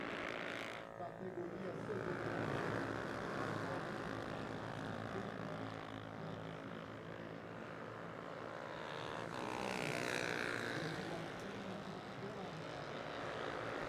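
Several Honda CB 300R racing motorcycles pass during a Mobil Pirelli SuperBike Copa Honda race, a sustained loud engine roar rising and swelling as they go by, with a commentator talking over it.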